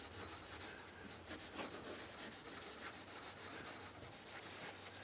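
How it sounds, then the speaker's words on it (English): Oil being rubbed by hand into the fingerboard of a Les Paul-style guitar, a soft, steady, close scrubbing rasp with quick rhythmic strokes, faint and continuous without speech. "So you rub it in. Make sure you get it up to the edge of the frets."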